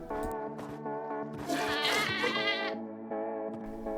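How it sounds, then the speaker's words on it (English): A screaming goat in Minecraft lets out a loud, wavering bleat that rises into a harsh scream in the middle, framed by shorter bleats before and after, with no talking. "it was a screaming goat"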